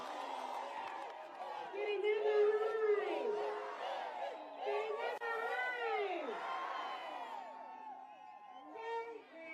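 A crowd at a Kirinyaga political rally in Kenya cheers and whoops for Governor Ann Waiguru, a lively swell of overlapping voices and shouts, fairly faint and distant.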